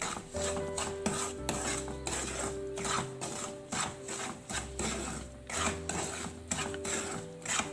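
Onion frying in a pan until golden brown, with a steady crackling sizzle and repeated scraping and clinking of a spoon stirring against the metal pan, close and continuous under a low machine hum.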